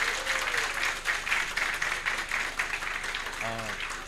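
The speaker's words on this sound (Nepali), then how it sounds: "उहाँको समयको लागि जोरदार तालीले सम्मान व्यक्त गरौँ" An audience at a Nepali entrepreneur's talk event bursts into sustained applause, dense clapping filling the room with a voice briefly heard near the end.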